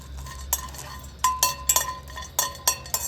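Amla and shikakai lightly roasted in an iron pan, heard as sparse metallic clinks and scrapes of a spatula against the pan, close, with quiet gaps between strokes.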